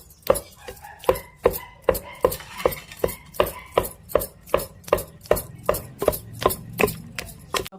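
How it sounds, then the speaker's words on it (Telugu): Star fruit pieces pounded coarsely for chutney, a steady run of about sixteen sharp, loud thuds at a brisk even rhythm, close up with no talking. "ముక్కలు ఇందులో వేసేసుకుని మళ్ళీ కచ్చపిచ్చ కొట్టేసుకోవాలి"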